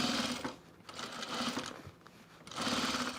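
A sewing machine stitches through heavy vinyl on a cocoon project bag, running in several steady bursts with brief pauses between, close and fairly loud with no talking.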